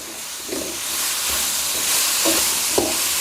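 Pumpkin and minced pork stir-fried together in a pan with a steady sizzle and hiss, broken by a few scraping strokes of a spatula; no talking.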